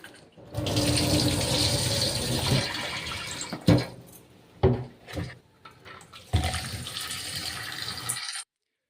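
Tap water gushes steadily into a kitchen sink while ginger is washed, running loud and close, broken by a few brief splashes and pauses before flowing again, with no voices.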